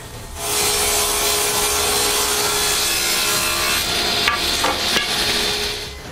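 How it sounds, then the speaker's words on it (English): Oak boards being resawn with a saw produce a steady, close rasping roar that runs nearly unbroken for several seconds, with a couple of sharp knocks near the end. "After trying it with firewood, I continue to resaw the oak."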